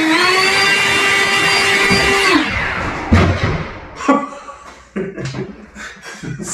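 A Ryobi power tool blows air in turbo mode with a loud, high motor whine for about two seconds, then cuts out, followed by scattered close thumps and clatter.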